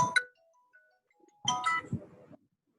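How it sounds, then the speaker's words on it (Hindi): A phone ringing with an incoming call, two short bursts of bright electronic ringtone tones separated by a quiet pause, fairly close with no talk. "एक मिनट फोन आ रहा है।"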